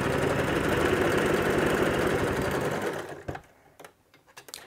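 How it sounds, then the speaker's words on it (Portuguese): A domestic sewing machine stitches synthetic Montana fabric, a fast, even mechanical whir running loudly for about three seconds before stopping, then a few small clicks and handling sounds. "vou costurar aqui"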